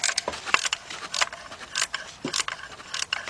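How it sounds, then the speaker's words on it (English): An 18mm speed wrench works on a bolt during Chevy Cobalt timing chain and oil pan repair, giving irregular metallic clicks and ratcheting bursts close by, with no talking. "Now, what we're going to do is take an 18mm wrench. We got a speed wrench."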